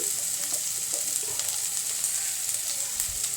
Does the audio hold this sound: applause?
no